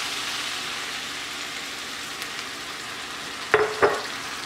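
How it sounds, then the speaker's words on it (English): Homemade spaghetti sauce gets stirred in a pan over a steady sizzling hiss, with two short scraping strokes of the spoon near the end. "I'll just stir it around."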